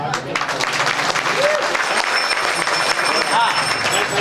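Devotees at a temple puja on Karthika month Shivaratri in Nizamabad, with a thousand oil lamps lit, clap loudly and continuously as a large crowd, with voices mixed into the dense applause throughout.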